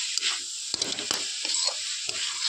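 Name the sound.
frying coconut laddu mixture in a pan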